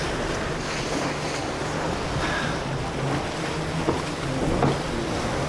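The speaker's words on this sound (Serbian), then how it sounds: "Ali nećemo da nas talasi pokvase." Ocean waves at the Spit on the Gold Coast, Australia, a continuous close wash of surf mixed with wind noise, steady and fairly loud with no voices.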